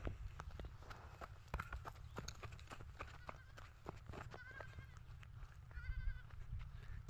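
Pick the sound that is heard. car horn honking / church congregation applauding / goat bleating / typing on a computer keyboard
goat bleating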